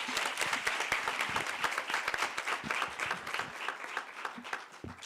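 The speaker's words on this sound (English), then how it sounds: "A big round of applause for her, please." Sustained applause fills a Women in Media and Communications event as the audience claps for a speaker, a dense steady patter of many hands that fades slightly toward the end.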